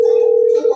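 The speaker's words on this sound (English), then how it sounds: "Let's see if we can get a phone call in." A steady, loud telephone dial tone sounds as a call is placed, a single unbroken hum that wavers briefly at the end.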